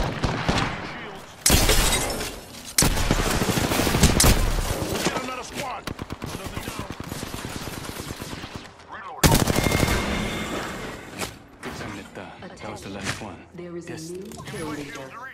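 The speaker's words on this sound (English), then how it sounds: "I am taking fire, friends. Opening fire on the enemy." Heavy automatic gunfire in Apex Legends, loud close bursts and sustained rattling volleys with sharp impacts, broken by short pauses and resuming; a voice speaks over parts of the firefight.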